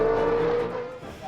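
A Red Bull V8 Formula 1 car driven by David Coulthard accelerating, a loud high-pitched engine whine sustained briefly then dropping off, heard close and alone.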